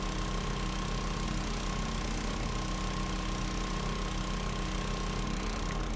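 Small portable pressure washer motor in the farming game Farming Simulator 25 hums on continuously, a close, even mid-pitched engine buzz with a thin tonal whine above it, unbroken for several seconds with no voices.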